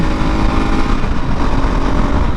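A 2018 Kawasaki KLR 650 motorcycle cruising on the I-75 highway, a loud, steady engine drone blended with strong wind roar, close and continuous with no speech.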